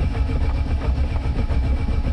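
A Chevrolet Celta engine churns loudly and continuously, a rough cranking drone from the starter motor that never catches into a running idle, the engine flooding.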